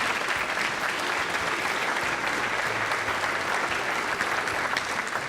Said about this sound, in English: Let's give Bonnie a big round of applause.